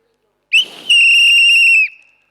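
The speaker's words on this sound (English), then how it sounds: "I blow the whistle on you literally" A referee-style whistle shrills loud and close, one short chirp followed by a long steady blast of about a second that then cuts off, used to end a speaker's two-minute open-mic slot at an awards event.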